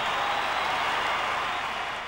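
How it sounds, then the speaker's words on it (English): AFL football crowd at Colonial Stadium roaring and applauding for a champion's farewell appearance, a dense, steady wall of cheering and clapping held at full volume throughout, easing slightly at the end. "This is the crowd."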